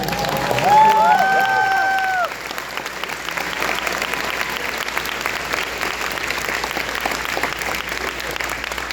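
A crowd applauds steadily with dense, continuous clapping at a cadet band competition closing parade, and a voice speaks over the start before the applause carries on alone.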